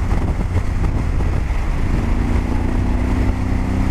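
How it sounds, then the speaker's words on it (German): Strong east wind buffeting the microphone outdoors on a border patrol walk, a loud, steady low roar with constant rumbling gusts and no letup. "der Wind hier von Osten, der drückt einem richtiges Moped weg hier"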